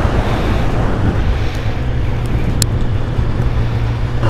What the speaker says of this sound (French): il y avait trop de vent, donc j'ai pas pu filmer.